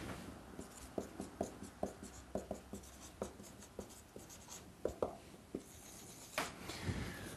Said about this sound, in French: Attends, je vais l'écrire.